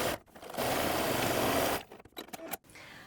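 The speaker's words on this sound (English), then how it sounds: "we're going to stitch across that middle line to the bottom and divide the pocket into 2" Sewing machine stitching across the middle line of a quilted tote bag pocket: a short, steady motor whir lasting about a second, then fainter scattered handling noises in a quiet room.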